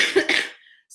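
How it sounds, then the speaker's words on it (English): A person coughs twice in quick succession at close range, the harsh bursts fading into a brief quiet tail with no speech. "sorry for the coughing"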